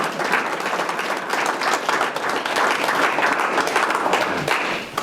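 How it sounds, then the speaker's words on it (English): An audience applauds to welcome a speaker at a community talk on radio history, a dense, sustained burst of clapping from a close crowd that holds steady for several seconds and fades slightly at the end. "let's give Dr. Roan a big hand"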